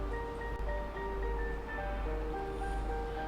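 Two glasses of water pour onto half a kilo of thawed beef mince in a cooking pot, a steady soft rushing splash over a faint background hum.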